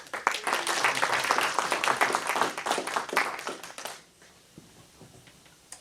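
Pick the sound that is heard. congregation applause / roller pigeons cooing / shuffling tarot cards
congregation applause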